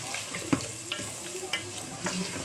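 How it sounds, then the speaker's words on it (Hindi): Beef liver frying with onion, ginger and garlic in a pan, a steady close sizzle broken by several sharp scrapes and clacks of stirring at irregular intervals. "उसके बाद इसको अच्छे से भूनेंगे।"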